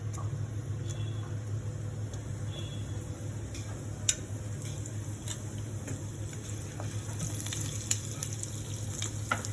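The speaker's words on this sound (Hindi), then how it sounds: "1 चम्मच मैं सौंफ डाल रही हूँ, मोटी वाली सौंफ डाल रही हूँ" Fennel seeds sizzling in hot oil in a wok for a Hyderabadi eggplant dish: a steady low frying hiss runs throughout with a few faint crackles and ticks, no voices.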